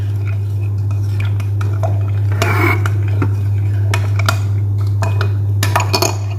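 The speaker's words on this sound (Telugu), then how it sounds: "కాఫీ పొడి అయితే మిక్స్ చేసుకున్నాను ఈ పాలల్లో" A spoon stirs coffee powder into thick milk in a bowl, giving repeated close clinks and scrapes of metal against the dish over a steady low hum.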